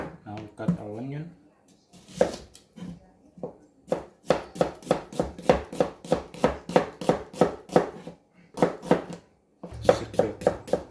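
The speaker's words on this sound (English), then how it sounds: "Now we cut our onion." Sharp, evenly spaced knife chops through an onion on a cutting board, prepared for chicken biryani, repeating in a quick steady rhythm close by after a brief spoken lead-in and a few scattered cuts.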